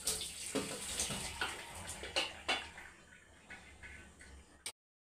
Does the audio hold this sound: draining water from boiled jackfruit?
yes